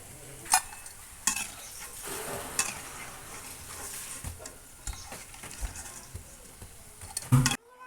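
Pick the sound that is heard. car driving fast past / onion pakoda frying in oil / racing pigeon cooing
onion pakoda frying in oil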